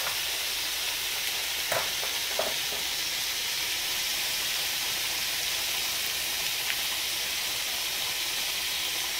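Cabbage roll filling with black pepper sizzles steadily in a hot pan, a continuous bright hiss with a few soft scraping stirs of the spoon against the pan, close and without talk.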